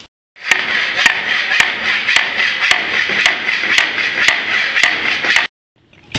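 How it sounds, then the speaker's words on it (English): Loud, evenly spaced hammer pounding, about ten sharp blows over a constant noisy background, then sudden quiet. "I think I'll pound it down a little bit more with a hammer too."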